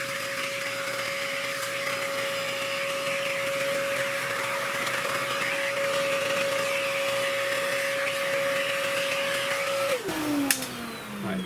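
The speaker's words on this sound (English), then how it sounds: "I'm going to grab the vacuum and try to suck up some of these fruit flies" A vacuum cleaner sucking up fruit flies from a compost bin runs steadily with a constant whine and broad rushing hiss, then its motor pitch drops as it winds down near the end.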